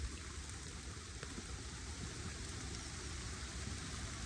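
Steady rain falls during a hike, a dense continuous hiss of drops on wet ground and foliage, close and even throughout with no voices.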